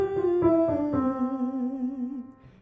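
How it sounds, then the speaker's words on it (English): A single voice hums one low, sustained note that sinks slightly in pitch over about two and a half seconds, close and steady, with a few soft pulses early on before it fades at the end. "We will start with a hum that sounds like this."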